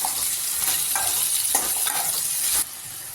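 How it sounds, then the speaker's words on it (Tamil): Brinjal, shallots and garlic sautéing in hot oil for thuvaiyal, a close steady sizzle punctuated by a few scraping stirs, the sizzle dropping suddenly near the end. "இந்த கத்திரிக்காய் சின்ன வெங்காயம் பூண்டு எல்லாம் சேர்த்து நல்லா எண்ணெயிலே வதக்கலாம்"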